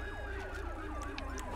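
Police car siren in a video game, a loud wailing yelp sweeping up and down in rapid repeated cycles over a low engine hum.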